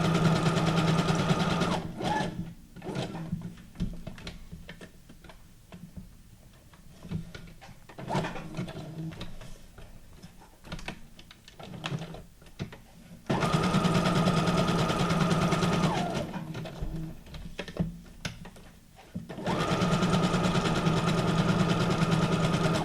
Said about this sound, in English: And I'm just going to use the zigzag stitch again.